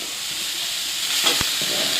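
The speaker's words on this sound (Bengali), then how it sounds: "দেখুন গাজরটা ঘষে নিয়েছিলাম যে, এবার দিয়ে দিচ্ছি, ভেজে নিচ্ছি ভালো করে।" Grated carrots frying in ghee give a steady broadband hiss and sizzle, with a brief scrape of stirring near the end.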